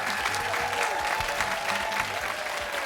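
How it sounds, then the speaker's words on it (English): Audience applause for the Acton-Boxborough team on a high school quiz show, a steady dense wash of clapping throughout with a few faint voices mixed in. "Nice round of applause, Acton-Boxborough's team."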